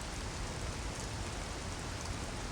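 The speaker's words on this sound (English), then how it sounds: "where it never stops raining." Constant heavy rain falls in the Talon Overworld of Metroid Prime Remaster, a dense, even hiss of downpour heard without talk.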